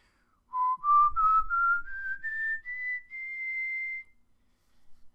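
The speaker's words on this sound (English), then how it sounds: "show you what whistling sounds like on this particular microphone" Whistling captured on a Blue Snowball microphone: a single clear tone sliding steadily upward in pitch over several seconds, close and fairly quiet, with faint breath noise at the start.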